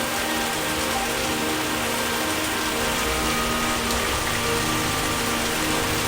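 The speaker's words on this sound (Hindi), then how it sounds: "रात भर बारिश होती रही।" Heavy rain falls through the night over a farmer's village fields, a constant broad wash of drops drumming on surfaces, even and unbroken for several seconds with no voices.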